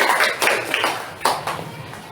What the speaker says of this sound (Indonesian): beri tepuk tangan untuk kedua teman kita.